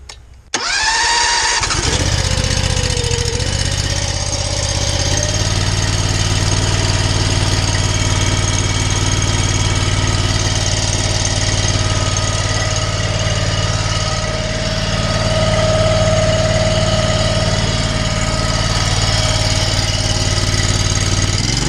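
Gas-engine pressure washer starting up, then running at a steady, loud, close droning idle while soft washing a house with downstreamed bleach, with a slight rise in pitch partway through.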